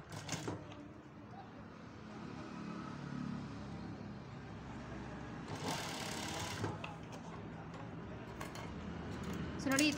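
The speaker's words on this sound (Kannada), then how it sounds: "ಈ ಥರ ಫೋಲ್ಡ್ ಮಾಡಿಕೊಂಡು ಸ್ಟಿಚ್ ಹಾಕ್ಕೊಳ್ಳೋಣ." A sewing machine stitches thread piping onto a blouse, giving a continuous low mechanical whir for the whole stretch. Fabric rustles over it, and a short louder burst comes midway.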